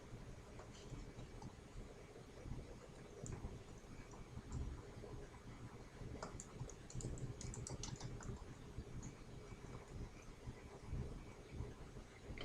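Typing on a computer keyboard, soft and steady key clicks running throughout against a faint background hum.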